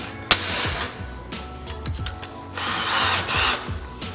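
DeWalt bits in a power drill boring into a wall: short bursts of whirring and grinding with a sharp initial crack, moderately loud and close, with no talking.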